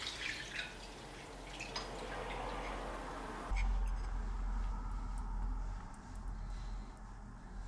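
Liquid poured over rice and chicken plov with garlic in a cooking pot, a steady wet pouring and dripping close by that grows fuller midway, with no talking.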